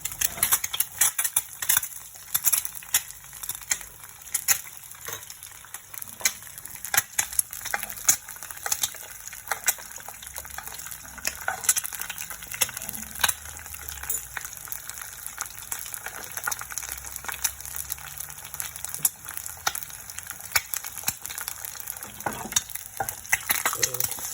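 A paratha frying in a pan gives a continuous crackling sizzle with frequent spatter pops and stirring scrapes, close and moderately loud for the full stretch, with no talking.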